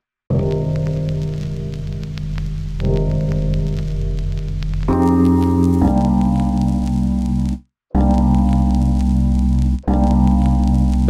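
A sustained synth from Reason's Grain instrument layered with a sine sub-oscillator an octave below, holding steady chords with a pulsing rhythmic texture, loud and close, shifting notes several times with two short gaps; no talking.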